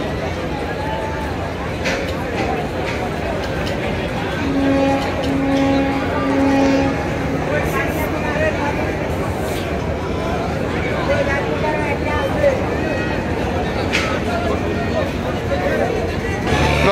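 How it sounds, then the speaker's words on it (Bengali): A passenger launch, the MB Shuvoraj 9, reverses smoothly in back gear at a busy river ghat after the Eid holiday. A steady, low engine rumble and water churn run throughout, with a crowd babbling around it. "খুবই স্মুথলি লঞ্চটি ব্যাক গিয়ারে চলে যাচ্ছে"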